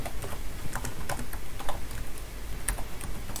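Python code being typed on a computer keyboard, a close, quick, irregular patter of key clicks running steadily throughout with brief pauses.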